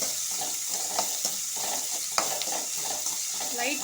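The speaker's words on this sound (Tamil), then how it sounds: "இதை நல்லா வதக்கிக்கலாம்." Vegetables sautéing in a pan for sweet and spicy paniyaram, a steady close sizzle with occasional soft scrapes and taps of a stirring spoon, no talk.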